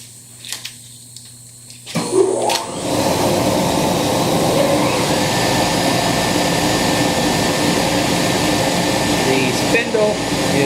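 A Felder Format4 Profil 45 spindle turning at 3,500 RPM with a 60-grit sanding head contours a red oak table apron, starting with a few clicks before a loud, steady whirring drone sets in and holds to the end.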